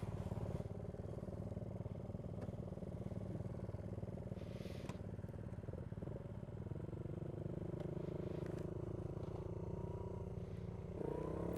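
A Honda Monkey motorcycle runs steadily while being ridden, a low continuous engine drone with faint clatter, heard from the rider's position with no talk.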